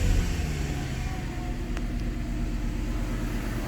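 A 1993 Mercedes SL500 with a 5-liter engine and a rough idle runs at idle just after the ignition comes on, a quiet, steady low hum that continues without a break.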